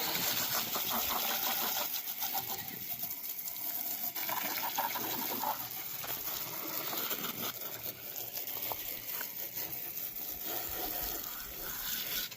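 Water sprays steadily and loudly while an old lawn mower is washed down, a continuous hissing gush with small shifts in intensity as the stream moves over the machine.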